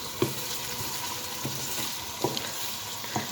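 Chopped onions sizzle steadily in hot oil for a Hyderabadi-style potato and brinjal curry, with a few sharp spoon scrapes and stirring taps against the pan.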